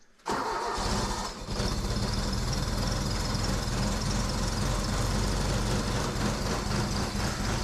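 A 1992 John Deere 322 garden tractor fires up from a cold start in snow at minus 15 degrees: a brief crank, then the engine catches and settles into a loud, steady, close-up rumbling idle.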